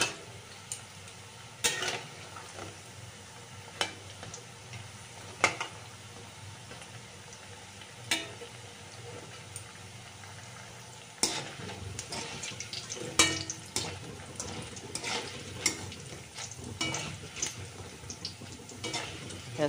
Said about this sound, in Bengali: তার মধ্যে একটু কড়কড়ে করে ভালো করে ভেজে নেব।